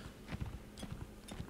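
A horse's hooves clip-clop steadily in the Napoleonic Wars mod of the video game Mount and Blade, a moderate rhythmic gait heard at close range over faint background noise.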